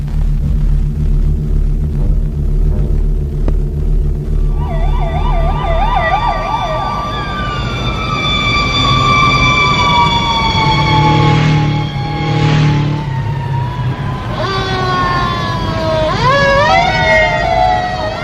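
Emergency sirens wail continuously, several overlapping rising and falling tones with a fast yelp pattern, loud and near over a low rumbling backdrop.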